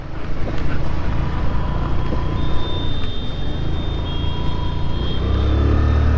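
Vehicles roll along a national highway with a steady, loud low rumble, heavy wind buffeting the microphone and faint tonal hums drifting over the noise.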